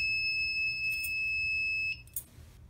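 A Fire-Lite MS-4 conventional fire alarm control panel sounds its steady high trouble buzzer, close and loud, cutting off near the end with a couple of short beeps after it.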